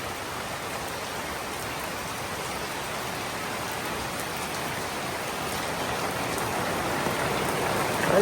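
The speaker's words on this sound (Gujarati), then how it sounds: "તડામાર વરસાદ આવે જાય તડામાર" Heavy rain pours down in Bali in a continuous, dense hiss, loud and unbroken throughout, swelling slightly toward the end.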